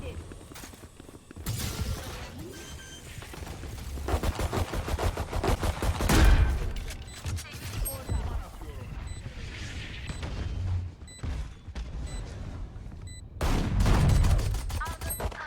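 Bursts of rapid gunfire and impacts in the shooter game Valorant, loud and repeated in clusters with a few booms, while a person talks over the fighting.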